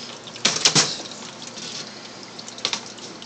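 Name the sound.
water being poured into a reptile enclosure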